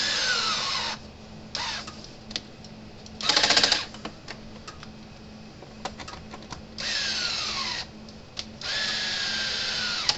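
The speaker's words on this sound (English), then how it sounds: "Battery's getting low on my drill." A cordless drill on a low battery runs in several short and longer bursts with pauses between them, whining as it works on an electric fence charger. It is fairly close and heard alone, without talk.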